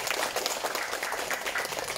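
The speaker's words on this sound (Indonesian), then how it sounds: "Beri tepuk tangan lagi." Audience applause for Bapak Inggar Joshua at a community gathering in RW 01, Cengkareng Barat, a steady patter of many hands clapping at moderate volume throughout.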